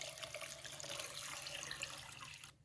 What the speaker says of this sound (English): So go ahead and pour this in your bowl.